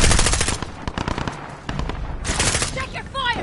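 Rapid machine-gun bursts from a PS4 shooter game crackle loud and dense, stopping and restarting in sharp volleys, with a voice shouting over the shooting.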